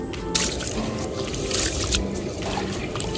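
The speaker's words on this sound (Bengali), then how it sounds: "চাল ভালো করে ধুয়ে নিচ্ছি।" Rice being washed by hand in water, a steady close wet swishing and trickling with small drips throughout, no voices.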